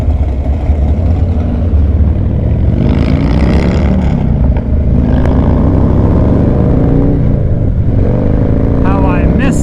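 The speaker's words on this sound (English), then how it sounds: "How I missed the throttle. I kind of left Mrs.TWOWHEELD in the dust back there. I'm speeding" A motorcycle engine accelerates along a road on a first ride of the season, a loud continuous rumble with rising revs and wind noise, overlaid by a rider talking.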